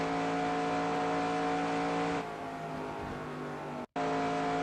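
A race car engine held at full throttle in NASCAR Racing 2002 at Indianapolis, a steady, loud, high-pitched drone that shifts in tone partway through and cuts out for a split second before resuming.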